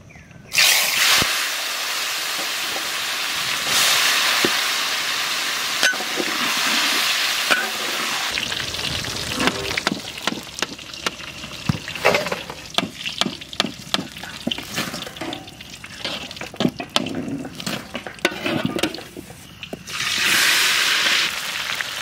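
Mustard oil heating and frying in a wok, ready for salted, turmeric-coated pointed gourd: steady loud sizzling and hissing throughout, with bursts of sharper crackle and stirring clatter in the middle before a strong sizzle returns.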